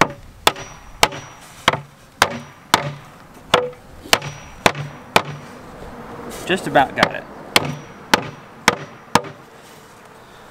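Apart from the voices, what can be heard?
hammering wood to pound in hive parts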